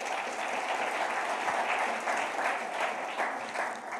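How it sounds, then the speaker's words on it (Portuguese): A church congregation at a Sunday celebration service claps together in a sustained, moderately distant round of applause, an even crackle of many hands with slight swells and no speech over it. "você aplauda o nome do Senhor"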